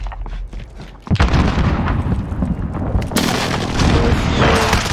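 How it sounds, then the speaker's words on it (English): Precision airstrike explosions in a first-person shooter video game hit loud and close, one heavy boom followed by another, each leaving long rumbling roar and debris noise, with no clear talk. "Be advised, friendly precision airstrike inbound."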